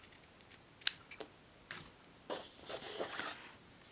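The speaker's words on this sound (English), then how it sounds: "Like my scissors." Scissors trimming thread ends from a sewn drawstring on a fabric drawstring bag, giving a few faint, close snips and small rustles at irregular intervals.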